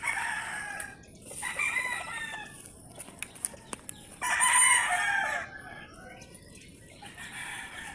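A rooster crows several times outdoors in a forest setting, loud and fairly close, with bursts of crowing separated by short pauses and scattered sharp clicks between them.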